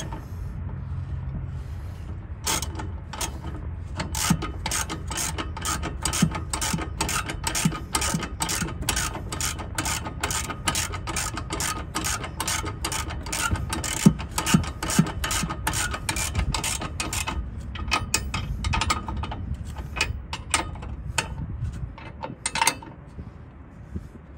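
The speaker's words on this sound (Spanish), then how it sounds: "Voy a proceder a apretar el de abajo." A ratchet wrench clicks rapidly and steadily while tightening the lower rear shock absorber bolt on a 2006 Ford F-150, a close, dense run of sharp mechanical ticks that slows into sparser clicks near the end.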